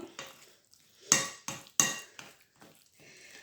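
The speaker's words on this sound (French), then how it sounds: "Voilà, on mélange." A spoon mixes peanut cake batter in a bowl, giving a few close scraping knocks and clinks against the dish, irregularly spaced and fairly quiet, with no talking.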